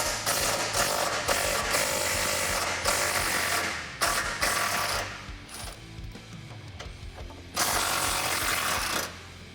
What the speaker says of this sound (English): remove the 2 bolts that are holding in our sway bar with a 15mm